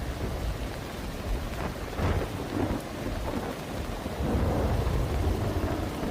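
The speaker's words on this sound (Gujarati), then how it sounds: "ધોધમાર વરસાદ જોવા મળી રહ્યો છે" Heavy monsoon rain with thunder in Porbandar: a thick, continuous downpour roar with low rumbling thunder rolling underneath, swelling louder toward the end, no voices.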